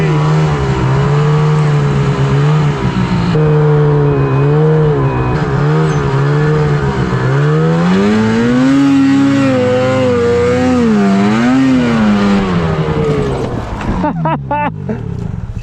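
Snowmobile engines rev and whine on a powder ride, loud and close, their pitch rising and falling in waves as the throttle opens and eases, ending in a scrambling burst of noise.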